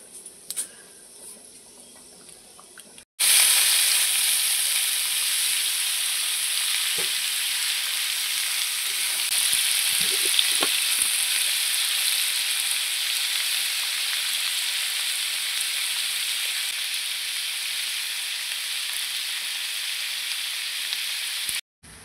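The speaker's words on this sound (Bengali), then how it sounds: "আর এখানে কালো জিরে ফোড়ন দিয়ে আলুটাও ভাজা করছি।" Potatoes fry in hot oil tempered with black cumin seeds, a loud, steady sizzle that kicks in abruptly after a quiet start and holds evenly to the end, with faint stirring knocks.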